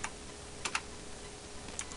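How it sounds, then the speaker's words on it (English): Someone types on a computer keyboard: a few quiet, crisp key clicks fall in two small bursts with a pause between them, close by and faint. "And now we're going to type in"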